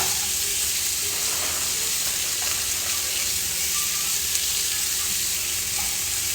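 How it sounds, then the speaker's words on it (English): Half an onion softens and caramelizes in butter in a pan, giving a constant bright sizzle, a dense hiss that stays steady and close without pause. "Now we are just going to let this onion get soft and caramelized."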